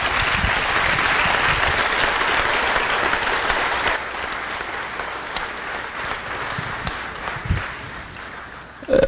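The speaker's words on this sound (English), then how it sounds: "round of applause for all of our athletes" Sustained applause from a crowd, dense clapping that fades gradually toward the end.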